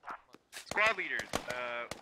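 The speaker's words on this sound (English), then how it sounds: "He's still shooting at me." Gunfire in the military shooter game Squad: sharp shots crack in quick succession over a few seconds, mixed with a voice and radio-like tones.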